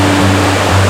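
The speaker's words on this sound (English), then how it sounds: "The creek's running full, which makes it extra pretty." A steep mountain creek in the Pecos Wilderness runs full over little waterfalls, giving a loud, close and steady rushing roar of water with no other sounds.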